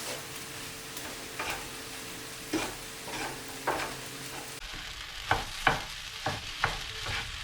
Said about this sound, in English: But first give it a good stir.